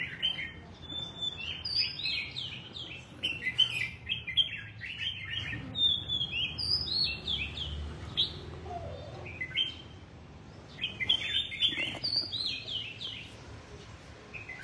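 Birds chirp and tweet in an outdoor yard near a trap cage, their bright calls arriving in scattered clusters, some close and some farther off, over a low background hum.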